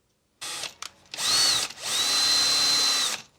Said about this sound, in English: I just need to drill a couple of holes.